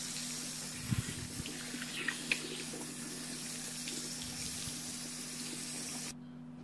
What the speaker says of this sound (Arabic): نغسل الوجه ديالي وغادي نشفو.